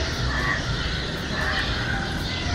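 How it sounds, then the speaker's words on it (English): Morning birdsong outside a kitchen door in Kenya, a thin continuous chorus of chirps and calls at moderate distance over a steady background hum, with no one talking. "I hope you can hear the beautiful birds which give me a concert every day"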